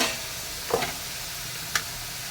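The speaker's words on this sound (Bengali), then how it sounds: "তো এই যে দেখো ওই তেলের মাঝে আমি সব চিকেনগুলো ছেড়ে দিয়েছি" Finely chopped chicken frying in hot oil gives a steady, close sizzling hiss throughout, broken by two brief metallic clinks of a utensil against the pan.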